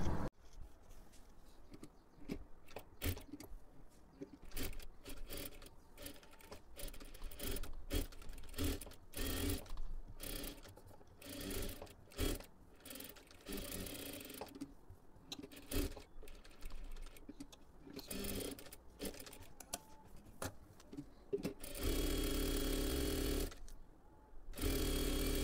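Sewing machine stitching the lace neckline of a blouse, a fast rattling needle chatter in start-stop bursts with short pauses between runs, close and fairly quiet, ending in a steadier continuous stretch.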